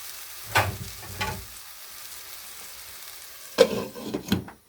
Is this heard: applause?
no